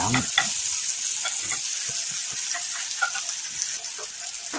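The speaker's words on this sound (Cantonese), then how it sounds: "煎至金金黃黃，約分半鐘" Garlic cloves fry golden in a pan for a spicy large-shrimp glass noodle pot, making a continuous close sizzle with light, irregular stirring clicks throughout.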